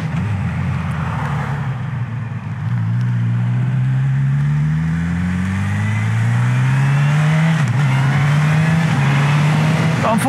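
Tractors drive past on a rural road, a loud mid-pitched engine drone that rises in pitch as they accelerate and pass close by, steady and continuous with a faint wash of background noise.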